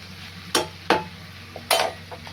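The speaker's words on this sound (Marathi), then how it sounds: "आता त्याच्यावर झाकण ठेवा." A lid set down on a cooking pan in a village kitchen while wild greens cook, giving a few sharp metallic knocks and scrapes, close and fairly loud over a low steady hum.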